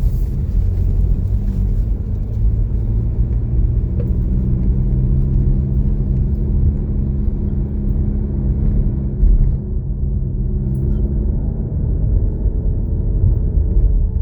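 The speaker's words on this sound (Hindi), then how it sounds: "हम गाड़ी लेके ना ऊपर से जाके देखते हैं।" Car climbing a steep hill road near a cave temple outside Bangalore, with a steady loud low engine rumble and road noise throughout and no voices.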